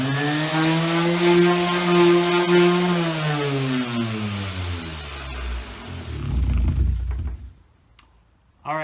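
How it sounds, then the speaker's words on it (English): A Black & Decker electric sander with 80-grit sandpaper whirs loudly on wood, then its motor winds down with falling pitch and stops, followed by a brief clunk. "we're going to start with some 80 grit sandpaper and the little Black & Decker sander."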